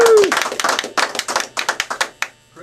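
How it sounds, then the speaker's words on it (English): A lone pair of hands claps in a talk-show studio to welcome Chris Cornell. The claps land close and loud in an uneven run of about a dozen, slow down, and stop before the end, with a brief vocal sound at the start. "I'm still clapping."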